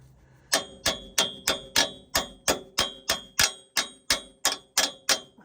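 A dozen sharp metallic clangs in steady rhythm, a hammer ringing against metal with bright overtones while installing a steering bracket bearing on a Ram Cummins 2500 truck, loud and close with no voices.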